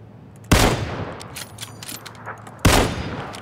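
Two loud, sharp rifle shots in the video game PUBG (Battlegrounds), about two seconds apart, each with a trailing echo over faint background game sounds.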